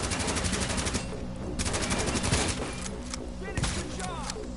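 Dense, sustained SMG fire in The Division, a continuous rattle of rapid shots running through the whole stretch amid other battle noise, with a brief shout over it.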